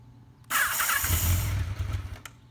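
A 1985 Honda Nighthawk 650 motorcycle engine turns over with a sudden loud burst of noise, runs roughly for about a second and a half, then sputters and fades.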